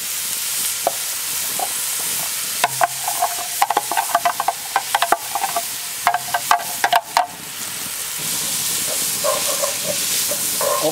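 Onions hitting hot oil with tomato paste in a Dutch oven, a steady sizzling hiss broken by a run of sharp scraping clicks from stirring, close up and without talk.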